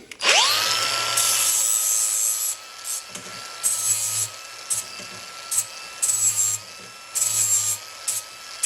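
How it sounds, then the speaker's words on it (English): Metal cutting with a power tool on an 80 mm length of steel for the top frame of a DIY motion simulator platform: a steady high-pitched whine that bites in sharply, then comes in repeated short bursts near the listener. "So let's cut our 80 millimeter length here now"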